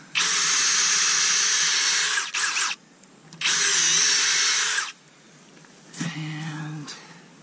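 A power drill bores a tap hole at an upward angle into a maple tree for sap collection in Maine, running in two long loud bursts with a short blip between, then a softer lower whir near the end.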